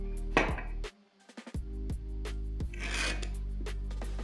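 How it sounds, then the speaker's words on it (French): A pencil drawing a line across wood while making a wooden sound amplifier, heard as close dry scratching strokes in short bursts over a steady low hum. "Maintenant, je viens tracer un trait à partir du dessous du cercle"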